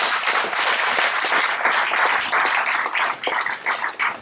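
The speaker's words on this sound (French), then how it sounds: "Applaudissez Jésus" A church congregation applauds during a worship service, with dense, continuous clapping from many hands that holds loud and steady.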